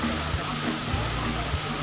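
A waterfall below Murga Mahadev temple in Odisha roars as a steady, dense rush of falling water, loud and close, filling the whole stretch without a break.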